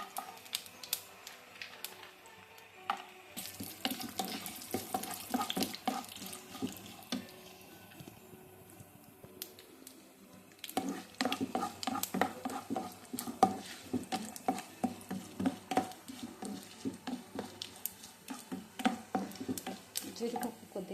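Small carrot pieces sizzle gently in oil for carrot rice while a spoon stirs and scrapes the pan, quiet at first and then busier, with a voice talking over part of it.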